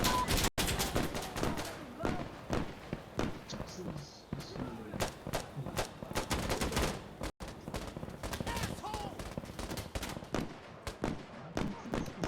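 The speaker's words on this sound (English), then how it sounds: "Look, I'm getting shot in the back." Gunfire in the tactical shooter Insurgency Sandstorm: rapid bursts of sharp shots crack throughout, some near and loud, others more distant, with players talking over the firefight.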